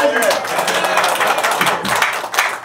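Dense applause from a seated audience at a Syngman Rhee forum in Los Angeles, a steady patter under a man's continuing speech.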